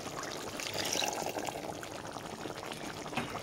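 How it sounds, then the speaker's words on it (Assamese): Water poured into a pot of thick cooking moong dal with fish head, a steady close splashing pour lasting a few seconds over faint simmering. "এতিয়া আৰু অকণমান পানী যোগ কৰি দিওঁ"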